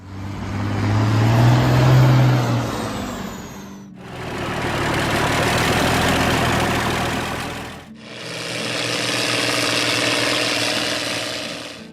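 An International Harvester 1066 tractor engine runs steadily and loudly at close range, its low rumble continuing through three segments with brief breaks between them.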